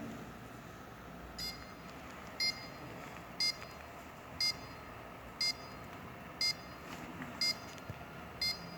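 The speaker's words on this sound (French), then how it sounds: "Nous allons enclencher l'alarme." An Arduino security alarm emits short, high, regular beeps about once per second, eight in a row, fairly faint over low background hum.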